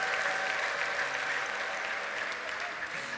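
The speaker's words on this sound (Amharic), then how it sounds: "ስለዚህ ጌታ ከፍ ያለ እልልታና ጭብጨባ እንሰጣለን" A church congregation applauding and ululating together, a dense continuous wash of clapping with a high sustained trilling ululation running through it, fairly distant and steady for the whole span.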